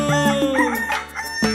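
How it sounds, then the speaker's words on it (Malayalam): A rooster crows within a Malayalam children's rhyme, a bright, wavering cock-a-doodle-doo with strong harmonics, close and loud, filling the brief moment alone. "പൂങ്കോഴികൾ കൂകുന്നു"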